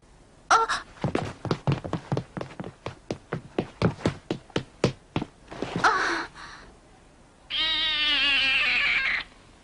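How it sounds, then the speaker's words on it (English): A cat in the Ninja Gaiden anime, heard as a quick run of about a dozen sharp rhythmic taps followed by a breathy sound and a long, drawn-out wavering meow, fairly close and clear with no talk over it. "Bucky Wise's cat sneaks in"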